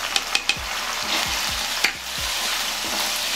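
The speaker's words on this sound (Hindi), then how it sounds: "हमने सारे मसाले इसमें डाल दिए हैं और इसे हम अच्छे से चला देंगे" Spatula stirring spices through drumstick vegetable (sahjan) in a frying pan, a steady close sizzle broken by repeated scraping strokes and knocks against the metal, with no talking.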